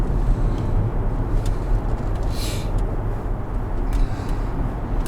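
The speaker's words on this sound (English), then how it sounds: "oh, that V8 diesel." A Range Rover V8 diesel cruises at speed, a steady low rumbling drone of engine and road noise heard from inside the cabin, loud and continuous, with no talk over it.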